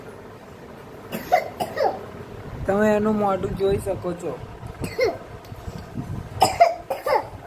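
A small child coughs in a few short bursts in a home, close by, with adults talking over and between the coughs.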